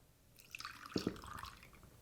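Milk is poured into a smoothie blender jar, giving a brief, faint liquid trickle with a couple of soft splashes, quiet and close, with no one talking.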